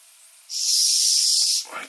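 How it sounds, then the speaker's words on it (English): Steam hisses from a Weeden model stationary toy steam engine, a loud steady bright hiss that starts abruptly, holds for about a second, then cuts off, alone without voices. "Okay, that's getting some steam now."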